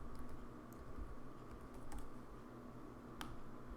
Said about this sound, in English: So let's go ahead and type out the entire word.